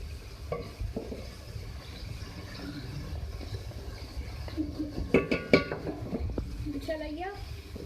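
Chicken pieces cooking in ghee with garam masala and ginger garlic paste give a low steady sizzle as a spoon stirs and scrapes, with clinks and knocks against the pot and a voice briefly heard near the end.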